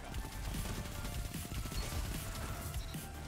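Rapid submachine gun fire in Destiny 2 rattles steadily and densely with a continuous spray of shots, loud and constant for the whole stretch and layered with game effects.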